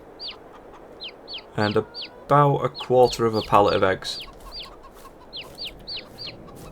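A flock of about 43 farm chickens clucks in repeated short calls, with a few louder drawn-out squawks in the middle, close by while someone talks over them.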